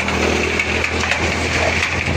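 An engine-driven chopping machine shreds maize for silage, producing a loud, continuous, harsh mechanical roar with a few slight surges and no talk.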